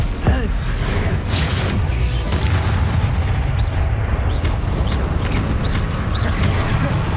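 Repeated explosive spell blasts in the Hogwarts Legacy video game, a run of deep booms and bursts, loud and continuous, with shouted spell incantations mixed in throughout.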